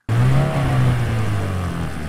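A car engine hums at a steady drone with a slight rev, loud and close, built as a driving sound effect.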